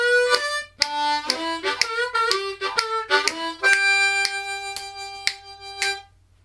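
A blues lick on a tongue-blocked harmonica, busy and loud, mixing octaves, percussive slaps and bent notes in quick choppy bursts before a few sustained tones, played alone without talk.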